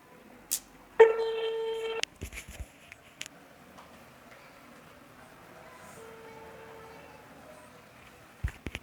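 An unanswered phone call gives a brief ringing tone early on and a fainter tone later, set against quiet background hiss, with occasional voices and clicks.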